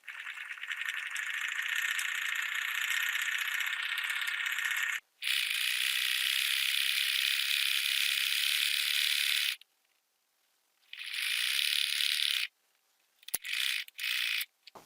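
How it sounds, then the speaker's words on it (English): A sewing machine runs in steady rattling bursts, pausing between stretches of stitching, with a few short clicks near the end. "let the sewing machine do the work. It should feed right on through."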